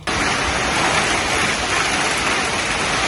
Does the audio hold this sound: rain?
yes